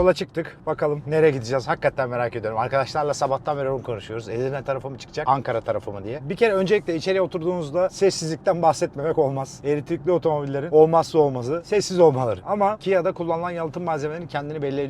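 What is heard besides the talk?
None of the usual background noises is heard.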